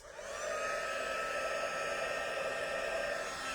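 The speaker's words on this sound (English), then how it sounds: "grab my heat tool" A craft heat tool for embossing blows steadily and loudly at a stamping desk, a continuous hot-air whir with a fan whine that holds even from start to finish, with no voices.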